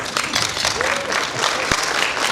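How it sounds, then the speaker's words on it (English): A crowd at a sustainability symposium claps steadily in a dense, continuous burst of applause, with a faint voice briefly audible beneath it. "so another round of applause"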